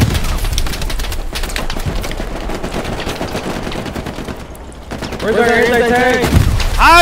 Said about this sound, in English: Oh yeah, double machine gun, let's go.